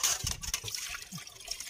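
Water is poured into a pan while fish fries on a boat at sea, giving a steady splashing trickle with sizzling, sounding close and continuous for a couple of seconds.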